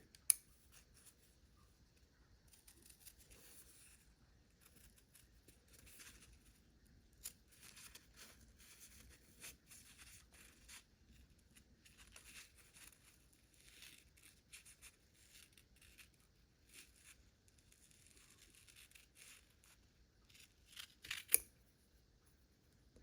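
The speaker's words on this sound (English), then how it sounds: "I find that like smaller scissors are better for this job" Quiet, slow snipping of small scissors cutting paper letters, soft irregular cuts with faint rustling and a couple of sharper clicks.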